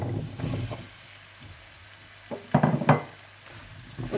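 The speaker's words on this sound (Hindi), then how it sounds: "और जब लहसुन भी हल्का सा फ्राई हो जाए तो आप इसमें आलू डाल दें।" Potatoes hit frying garlic in a pan, letting out a loud burst of sizzling and spattering that swells twice near the middle, then settles back to a lower hiss with some stirring, no talk.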